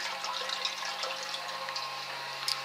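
Mash water trickling steadily from a mash tun into a boil kettle during all-grain homebrewing of a porter, a continuous soft splashing flow heard close by with no talk.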